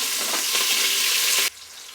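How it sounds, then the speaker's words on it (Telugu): Onions sizzling hard in hot oil with mustard seeds and curry leaves, a loud, dense frying hiss with some stirring that cuts off abruptly, leaving only a faint low crackle. "ఇప్పుడు దీన్ని కొద్దిగా ఫ్రై చేసుకునేది."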